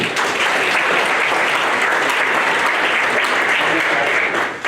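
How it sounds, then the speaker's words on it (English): A high school winter sports banquet audience gives the wrestling coaches a dense, loud round of applause that continues steadily throughout and fades slightly at the very end. "So a nice round of applause for them."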